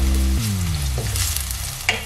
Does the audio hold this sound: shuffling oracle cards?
no